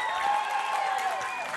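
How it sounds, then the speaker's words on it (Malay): An audience on a children's singing talent show applauds in a short, dense burst of clapping that fills the space evenly. "Tepukan untuk Afif."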